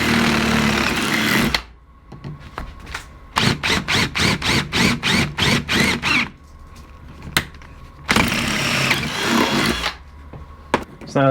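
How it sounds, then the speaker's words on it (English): Power drill boring holes through the metal of a Jeep Cherokee XJ body while fitting gullwing windows, heard as a series of about ten short, close, rhythmic bursts between longer sustained runs, no talking. "when I'm drilling this corner here I'm always angling the drill in"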